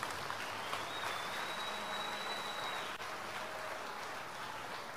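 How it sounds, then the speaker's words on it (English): A church congregation at a Sunday mercy service claps, steady and faint at a distance, a soft continuous patter with no voices on top. "Clap your hands for the Lord."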